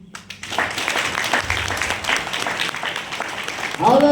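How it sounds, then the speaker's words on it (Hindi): A church congregation claps hands together in sustained applause during a Christmas-season Sunday service, a dense, steady patter that fills the hall before a voice rises near the end. "ताली बजाइए।"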